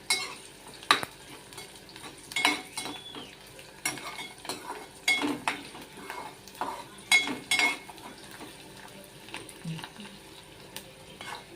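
Onions frying in a pan for mutton curry, with a spoon repeatedly scraping and stirring over a low sizzle in irregular bursts.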